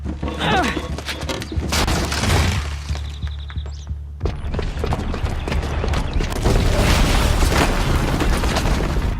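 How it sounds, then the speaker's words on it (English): A bomb detonates in Horizon Zero Dawn: heavy booming blasts and crashing debris rumble loudly across several seconds, with rolling impacts and a brief lull before another surge of destruction. "the booby trap on the bomb downstairs is gonna get set off"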